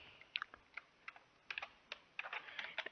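Keys clatter on a computer keyboard as a Linux command is typed, irregular close clicks in short bursts, quiet with no voices.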